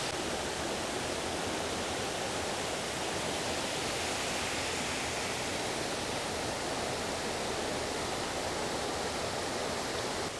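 A Tasmanian waterfall roars as a steady, dense broadband rush, loud and close, unbroken for the whole stretch with no voices.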